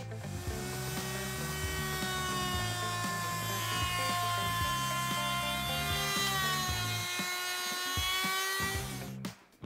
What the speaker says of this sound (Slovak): Rozhodol som sa pre hornú frézu a teraz vložím príslušný frézovací nástroj